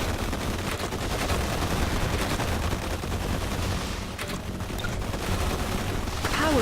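Artillery fire in the real-time strategy game Forged Battalion, heard as a dense, continuous clatter of rapid gunshot-like bursts filling the whole stretch at steady loudness.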